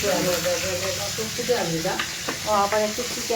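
Potato and brinjal slices fry in oil with a continuous sizzle, partly masked by tonal music or voices in the background.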